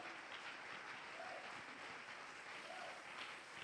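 A church congregation applauds the Lord during a worship service, steady sustained clapping from many hands filling the room, loud and continuous with no talk over it.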